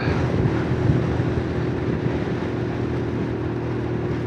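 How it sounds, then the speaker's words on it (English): Strong wind roars continuously across the microphone while cycling on a road through the Hexi Corridor in Gansu, China, a dense, steady low rumble with no pauses and no talk. "There's so much wind."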